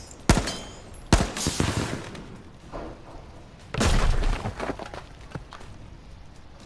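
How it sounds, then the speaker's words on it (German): Gunfire in the game H1Z1 as shots hit loot crates: a few sharp, loud cracks spaced apart, then a longer rumbling burst midway, with quieter thuds between and no talking. "ihr müsst drauf schießen"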